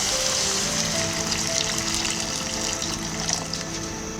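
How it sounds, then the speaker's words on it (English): Hot water gushes steadily into a wok holding oil and chopped scallions, a continuous close splashing pour lasting several seconds, with no talking. "then add 600 milliliters hot water"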